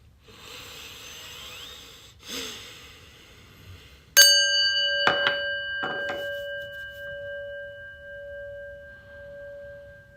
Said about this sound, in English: let's get a little breath and listen to the prayer bell